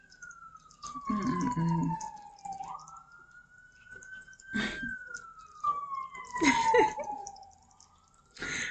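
An emergency vehicle siren wails outside, rising and falling in long sweeps at moderate distance, while a person hums and makes small sounds close by.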